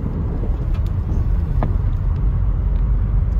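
A car coasts down a steep exit through deep snow in Big Bear, California, giving a loud, steady low rumble that holds evenly throughout with wind buffeting and faint creaks over it.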